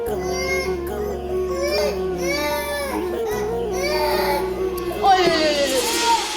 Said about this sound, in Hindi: लेकिन मेरा बच्चा रो रहा है।